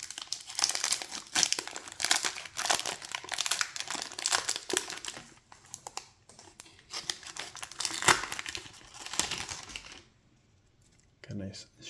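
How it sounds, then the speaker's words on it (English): A Magic: The Gathering Lord of the Rings collector booster pack wrapper is torn open, giving close, busy crinkling and ripping of foil plastic for about ten seconds before it falls quiet. "let's rip into it right now"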